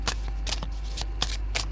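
Spiritual guidance cards are shuffled in a rapid rhythm, with several crisp riffling bursts close to the mic and no talking.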